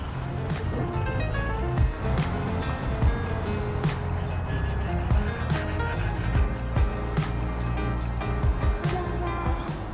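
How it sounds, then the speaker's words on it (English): Japanese hand plane (kanna) blade sharpened on a whetstone, repeated rhythmic scraping strokes of steel on stone, close and fairly loud, with slight clicks and taps between passes. "So I will do certain passes with my right edge, my leading edge, sort of off the stone just a little bit to kind of keep things a little on the even side."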